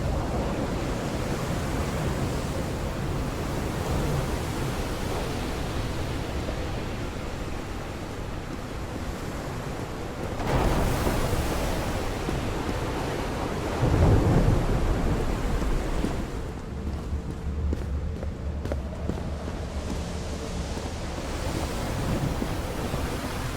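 Heavy storm in the Call of the Sea video game: steady roaring rain and crashing ocean surf, with loud rumbling thunder swelling midway and again later, continuous and close throughout.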